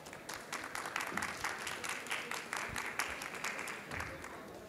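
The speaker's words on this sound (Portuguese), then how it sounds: "Uma salva de palmas" An audience applauds at a panel session on highway concessions, with loose, uneven clapping from a modest crowd and individual claps standing out as it rises and dips over about five seconds.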